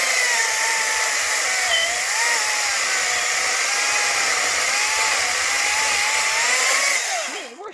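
A chainsaw runs loud and close at a steady high whine, the pitch wavering slightly as it works, before dropping off at the end; no voices are heard over it.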